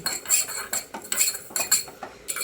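Dry panch phoron seeds being toasted in a small tadka pan, with rhythmic metallic scraping and clinking of a spoon against the pan in quick repeated strokes, close and clear with no talk.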